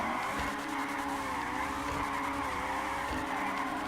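A Vapid Flash GT car drifting in GTA 5, its tires squealing in a long, loud, wavering skid over a steady engine roar, with no talk.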